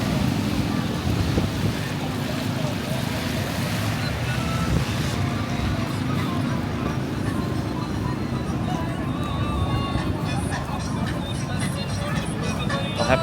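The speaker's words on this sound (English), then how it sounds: "the wind is really blowing the snow into the camera" Strong wind blowing through Midtown Manhattan during a heavy snowstorm, a loud continuous roaring rush buffeting the microphone throughout, with no clear breaks.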